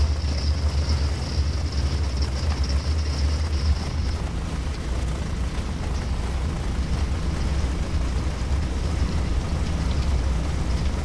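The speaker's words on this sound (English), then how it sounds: "Hear that familiar starter sound?" An F7F Tigercat engine starter in a flight simulator game spins up with a thin, high whine for the first few seconds over a steady, loud mechanical rumble that carries on throughout.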